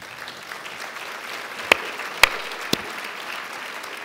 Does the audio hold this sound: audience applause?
yes